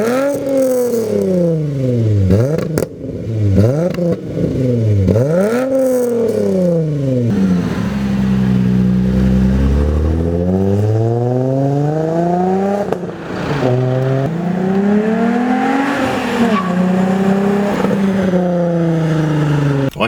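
A VW MK3 VR6 2.9 big-bore engine with cams revs up and down repeatedly, its pitch rising and falling in sweeping bursts, then settles into a long, steady climb and drop, loud and close.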